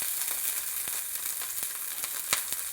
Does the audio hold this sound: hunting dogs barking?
no